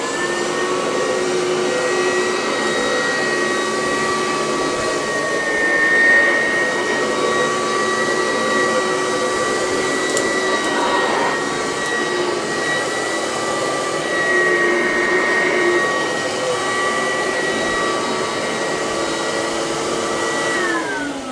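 Upright vacuum cleaner running over carpet indoors, a loud, constant motor drone close by for about twenty seconds, swelling slightly in places and never stopping, with no talking.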